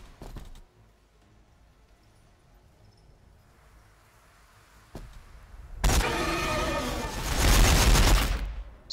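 Gunfire in the Warhammer 40,000 video game during an Orks versus Tyranids battle: a quiet stretch, then a loud, dense burst of rapid shots that swells and continues for about three seconds.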